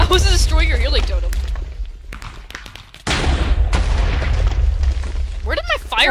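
Fireball attacks in the Minecraft Hypixel Arena Brawl game, with loud repeated booming blasts and bursts amid game noise, a sharp drop near the middle before the din resumes, people talking excitedly over it.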